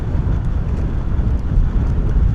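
Strong gusty wind buffets the microphone outdoors at Bristol Airport in 35-knot winds, a loud continuous low roar that swells and dips without pause.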